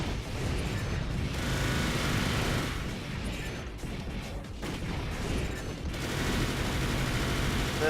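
Dual machine guns firing in Armored Core: For Answer, a dense continuous rattle of rapid fire with booming impacts that runs almost unbroken for several seconds.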